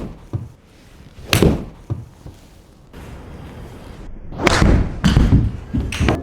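A golf club strikes a golf ball with a few sharp, solid thwacks separated by quiet moments, each near and punchy against a soft outdoor background.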